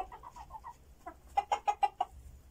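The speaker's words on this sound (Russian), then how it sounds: "Он не поет, как петух. Он кудахчет, как курица." A rooster clucking like a hen, a string of short soft clucks followed by five louder, sharper clucks in a quick even rhythm, close by with no talking.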